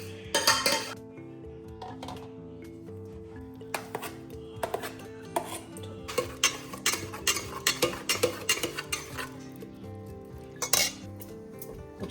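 Mutton haleem being smashed in a pot, with repeated metallic clanks and thuds from a utensil against the pot, arriving in uneven bursts, close, with no talk.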